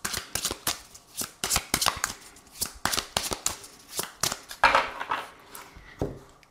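Oracle cards being shuffled for a tarot-style reading, a rapid run of crisp papery riffles and taps in uneven bursts, close and fairly quiet, with no talking over it.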